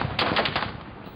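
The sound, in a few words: gunfire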